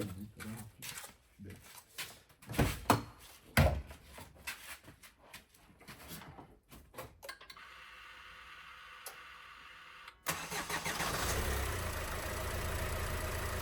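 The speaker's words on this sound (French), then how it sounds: "C'est parti pour le démarrage, le test de démarrage." Clicks and clunks, then a Renault Laguna II engine with failed engine mounts and a fluid leak turns over and catches at about ten seconds, settling into a steady, fairly loud idle.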